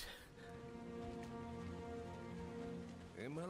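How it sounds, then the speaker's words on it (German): Blood rain falls in Diablo IV, a steady hiss of rain spread across the whole span under droning, tonal game music, with a rising synth sweep near the end. "Oh, es regnet Blut."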